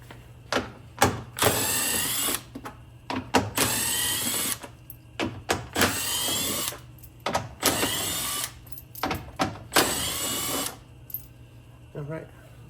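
A power tool zips 10 mm bolts out of a Tesla Model Y front bumper in five or six loud whirring bursts, with short pauses and light clanks between them and no talk.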